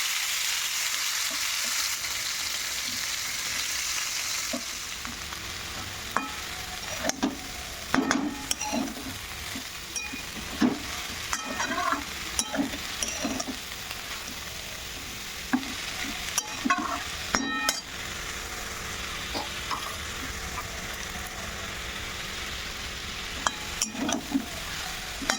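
Bitter gourd slices frying in a hot wok give a steady, even sizzle, with repeated stirring clatter and scrapes in the middle stretch.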